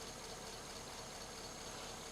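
A 1939 Ford truck's flathead engine idles with full exhaust, a smooth, steady, even rumble heard close and alone without any change in pace.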